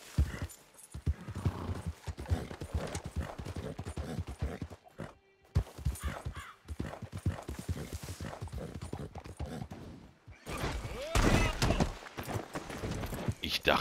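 Horse hooves galloping in Red Dead Redemption 2 online, a fast, dense clip-clop rhythm that runs almost throughout, with a short break midway and occasional gunfire-like bursts in the game mix.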